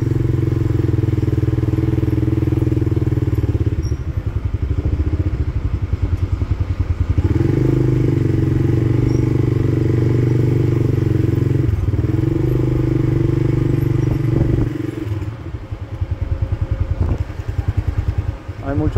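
A motorcycle engine drones steadily up close, riding in heavy town traffic in La Piedad, Michoacán, rising and falling, with clattering and thumps from the road throughout.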